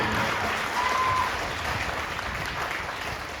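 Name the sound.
applause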